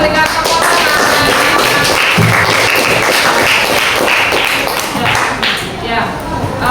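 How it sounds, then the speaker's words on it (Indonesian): A classroom group claps for a student after her talk on managing emotions, a dense, steady patter of hands filling the room with some voices mixed in. "Kita berikan tepuk tangan."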